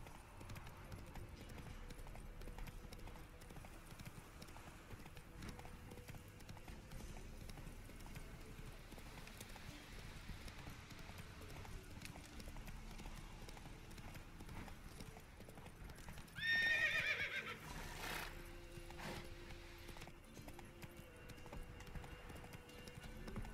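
Clip-clop of Roach, a horse in The Witcher 3, trotting steadily beneath ongoing game music and ambience, with a short, louder neigh breaking in near the end; a voice speaks briefly.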